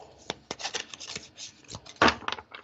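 Tarot cards being shuffled by hand, a run of dry riffling and rubbing bursts with short pauses between them, close and fairly quiet, with no voice over them.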